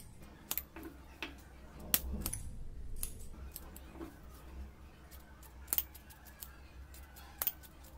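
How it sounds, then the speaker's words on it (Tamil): Scissors cutting excess blouse fabric: a series of crisp, close snips, some single and some in quick pairs, spaced unevenly against a quiet room. "எக்ஸ்ட்ரா இருக்க பீஸ் எல்லாத்தையும் கட் பண்ணிடலாம்"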